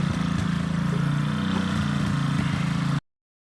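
A small gasoline rototiller engine runs steadily while tilling soil on a property lawn area, a loud, close, even drone that holds through the whole stretch and then cuts off abruptly.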